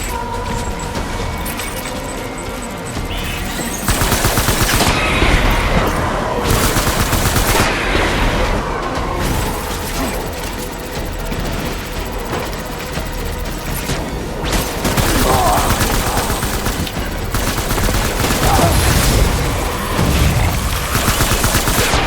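Bursts of rapid gunfire crackle through a fight in the video game Death Stranding. Dense volleys of automatic fire and explosive booms repeat against a busy battle background, with no talk over them.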